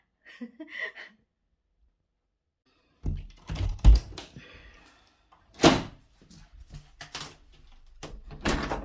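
Outdoor door in England opening with a clatter and thunk, followed by bumps, knocks and rustling handling sounds at close range.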